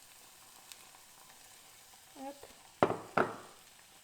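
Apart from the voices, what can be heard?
beaten eggs with mushrooms sizzling and stirred in a pan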